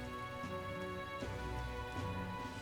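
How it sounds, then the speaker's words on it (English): Steady rain falling on surfaces in a video game world, a continuous hiss of drops over a tonal background music bed with no talking. "Oh, it's raining now."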